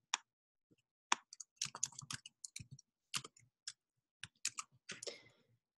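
Typing on a computer keyboard while entering a website address, with irregular bursts of sharp key clicks separated by short pauses, close and fairly quiet, with no talk.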